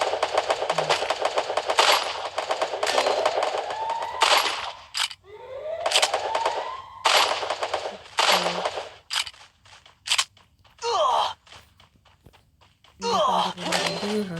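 Automatic gunfire in the Free Fire mobile game, with repeated rapid bursts of shots, some long and some short and clipped, close and loud, separated by brief pauses and swooshing effects.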